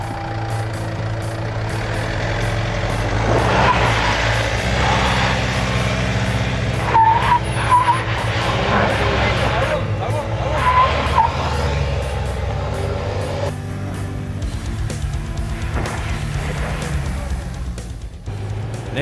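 A Land Rover Defender with traction control crawls through an off-road obstacle, its engine droning steadily and loud throughout, with revs rising and falling and wheels scrabbling at moments.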